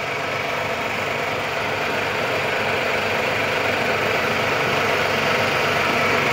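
A homemade flour mill driven by a double motor and belt runs continuously, giving a loud, steady mechanical hum and grinding drone close by with no pauses.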